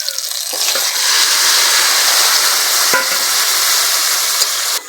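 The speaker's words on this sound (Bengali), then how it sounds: "ফোড়নটা ভালো করে ভাজা হয়ে গেছে এবার শাক তরকারিটা ঢেলে দিচ্ছি" Bottle gourd greens curry poured into hot seasoned oil with panch phoron and green chilli sets off a loud, close, continuous sizzle with occasional sharp crackles and a steady frying hiss.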